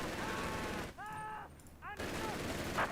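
Dense, continuous gunfire from Company of Heroes 3 machine gun nests fills the battlefield, loud and crackling, with a short dip midway before the barrage surges back.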